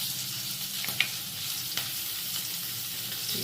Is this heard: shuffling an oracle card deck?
no